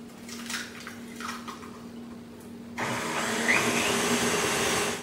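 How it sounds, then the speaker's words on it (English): Electric mixer beating chocolate chip banana cake batter on medium speed; a soft whirring hum first, then a sudden louder, steady motor whine with grinding noise that holds for several seconds before cutting off abruptly. "continue to beat on medium speed for another 2 minutes"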